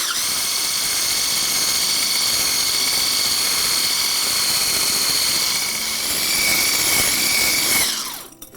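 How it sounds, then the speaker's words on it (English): Egg whites beaten to a medium peak make a steady, loud whir that runs unbroken for about eight seconds before cutting off at the end, with no talk. "I'm gonna whisk the whites until they're about a medium peak"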